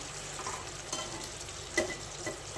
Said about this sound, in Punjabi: ਇਸ ਤਰੀਕੇ ਨਾਲ ਆਪਾਂ ਇਹਦੇ ਪਾਸੇ ਪਲਟ ਦਾਂਗੇ ਸਾਰੀਆਂ ਤੋਰੀਆਂ ਦੇ